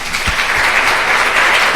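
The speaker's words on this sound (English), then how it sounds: "Another round of applause for John." An audience at a hospital cardiology grand rounds lecture gives a loud, dense burst of applause that lasts the whole brief moment.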